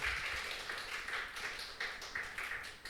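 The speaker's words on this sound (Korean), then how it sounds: "우리 박수 한번 해주세요." A church congregation claps together during a Korean worship service, a short run of fairly regular, rhythmic claps heard in a roomy hall without voices on top.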